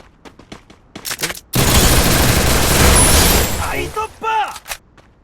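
Gunfire in a video game: a few scattered single shots, then a dense, loud burst of rapid automatic fire lasting about two seconds, followed by voices talking.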